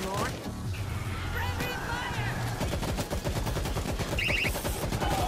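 Gunfire in the World War Z video game rattles in rapid bursts and single shots amid game sound effects, while a player speaks over the action.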